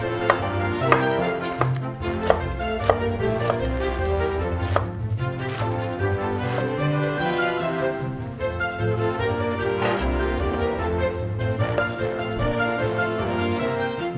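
Green onions are sliced with a knife on a cutting board, giving a long run of quick, crisp chopping taps at an uneven rhythm, close up with no talking.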